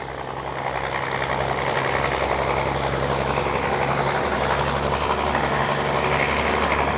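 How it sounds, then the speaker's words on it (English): A model propeller plane, a Kavan Bristell B23, droning steadily with a high whine, constant in loudness as it flies, with no voices. "What a smooth flying plane."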